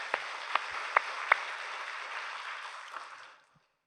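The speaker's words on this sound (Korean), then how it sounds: "하나님께 우리 감사의 박수를 올리기 바랍니다." Church congregation at a Sunday service clapping in thanks, a steady wash of applause with a few sharp individual claps standing out, holding for about three seconds before fading quickly to silence.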